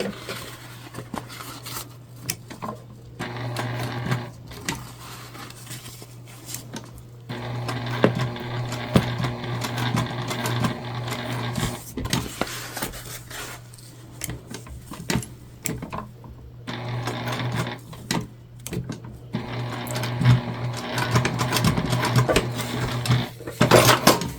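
A sewing machine runs in bursts while stitching a tote bag, its rapid mechanical chatter starting and stopping several times with brief pauses and small handling clicks between runs.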